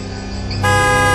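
A car horn sounding as an effect in a horror story, a loud sustained tonal blare that steps up in strength partway through, with no talk over it.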